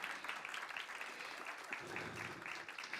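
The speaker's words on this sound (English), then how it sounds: "yeah, you can give applause" Audience at a Sunday church talk applauding, a steady spread of many hands clapping at moderate volume for a few seconds without speech.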